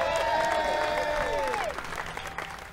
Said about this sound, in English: And another big round of applause, Mr. Rob Ikes on the dobro.